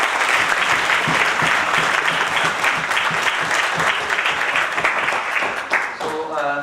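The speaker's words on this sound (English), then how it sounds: "I think a huge round of applause for sir." A loud, sustained round of applause from a conference audience, dense clapping that fills the room and thins out near the end as a voice begins to speak.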